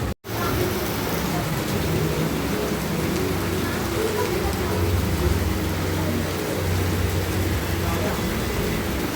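Steady outdoor rain falling close by, a continuous dense hiss with low rumbling underneath, running throughout after a brief dropout at the start.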